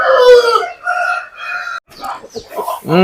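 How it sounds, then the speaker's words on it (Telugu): Aseel black kakkira hen and roosters, one of them crowing loudly and close by in a few strained, drawn-out bursts with short breaks between, and no other sounds around them. "గోబల నల్ల కక్కిర పెట్ట చాలా బాగుంటుంది"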